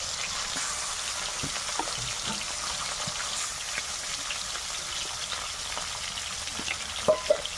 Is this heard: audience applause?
no